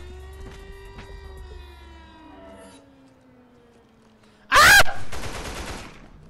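Automatic gunfire in the zombie shooter game Mega Zombie: a long, very loud burst erupts near the end, followed by a fainter rattling stretch, after a quieter start with humming and tonal game sounds.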